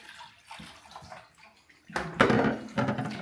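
Water splashes and runs into a tub, starting light and becoming a louder, fuller gush of pouring water.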